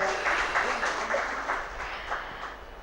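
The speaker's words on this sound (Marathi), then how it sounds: "टाळ्या वाजूयात" An audience claps at a Rotary Club of Manchar talk event, a sustained wash of moderate applause that slowly fades toward the end.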